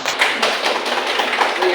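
Clapping in a classroom, a short burst of many hands applauding together, close and steady throughout.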